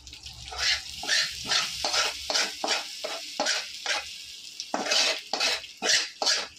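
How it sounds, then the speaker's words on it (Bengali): Hot tarka tempering poured into Bihari-style kadhi with curd boras, the gas turned off, gives a close, loud sizzle broken into repeated bursts with light clinks of utensils, and no talking. "এবার তোমরা দেখো আমি তরকাটা ঢালছি।"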